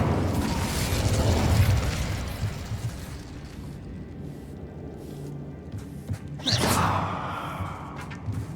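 In Hogwarts Legacy, an Incendio fire spell goes off in a roaring whoosh of flame that fades into a low rumble. A second sharp fiery burst follows near the end.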